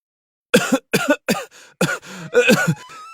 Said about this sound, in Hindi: मंत्री जी खांसने लगते हैं।